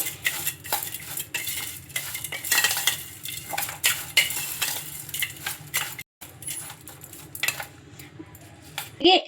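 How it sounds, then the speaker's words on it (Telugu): A spoon clinks and scrapes around a bowl as a rice-and-oil snack is stirred together with lemon juice, steady clattering mixing sounds close up with a brief break partway, no voices. "ఇవన్నీ వేసుకొని మొత్తం ఇలా బాగా కలుపుకోవాలి."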